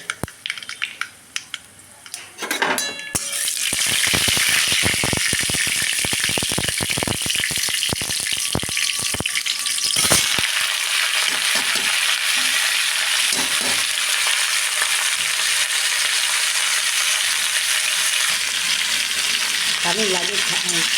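Mustard seeds tempering in hot oil for an old-style red-amaranth shukto. A few scattered clicks come first, then a loud, close sizzle rises with a burst of crackling pops that eases into a steady fry.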